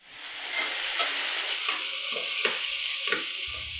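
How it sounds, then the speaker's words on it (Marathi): Onions sizzle loudly and steadily as they fry until reddish in a pan on the way to a broccoli bhaji, with a few stirring scrapes and clicks close by and no talking. "कांदो आपलो आहे लालसर झालो हा, मस्त फ्राय झालो"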